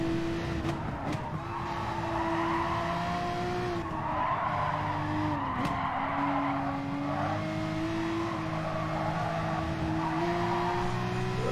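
Race car on cold hard tires skidding through a turn in a racing video game, a sustained tire squeal over a droning engine that shifts pitch as the car slides, with no talk.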